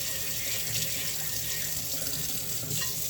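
Tap water runs steadily into a sink over cast iron cookware being scrubbed, a close, continuous splashing rush with no voices.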